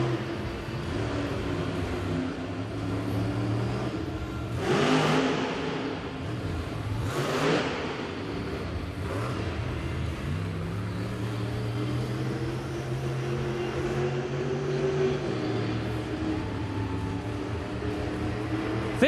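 A Monster Jam monster truck engine revs on the throttle in a stadium, a loud sustained roar with rising and falling pitch and several surges of acceleration over a constant crowd wash.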